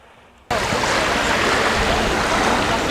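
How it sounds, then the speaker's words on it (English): A creek flows toward the lake beside a beach on Michigan's Thumb coastline. Its steady, close rushing starts abruptly and continues without a break, with no voices. "there is a creek here that almost makes it out to the lake"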